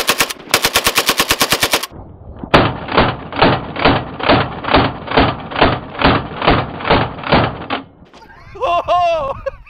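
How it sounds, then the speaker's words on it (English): Russian AK-47 assault rifle fired on full automatic, with a fast, loud burst, a short pause and then a longer sustained string of rapid shots, followed by an excited voice. "This is the real Russian AK-47, full automatic."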